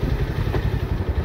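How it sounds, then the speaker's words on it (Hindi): A motorcycle engine runs at a rough, clattering idle close by, its low throbbing pulse steady and loud for the whole moment with no voices over it. "हमें कुक्कू जी मिल गए हैं और अब इनकी बाइक का रगड़ा आप देखिए"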